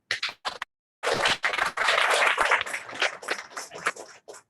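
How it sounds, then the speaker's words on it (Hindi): Audience clapping at a Mahashivratri class gathering at a Brahma Kumaris centre in Chembur, Mumbai: a couple of scattered claps, a brief pause, then a sustained burst of close, irregular applause that tapers into a few final claps. "फिर से ताली बजा"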